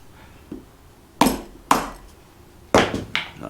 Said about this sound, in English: let's go ahead and take our rubber mallet and see if we can get this head popped off of here.